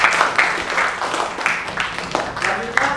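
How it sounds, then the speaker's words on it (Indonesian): An audience applauds a group of students after a classroom practical demonstration, a burst of mixed clapping that fades and rises again, close and moderately loud. "sekali lagi beri tepuk tangan buat kelompok yang ketiga"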